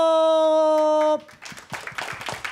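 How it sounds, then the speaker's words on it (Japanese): Audience applause greets guests arriving on stage at a film talk session. It follows a brief ringing musical sting and comes as scattered, moderately loud clapping mixed with voices. "温かい拍手でお迎えください。"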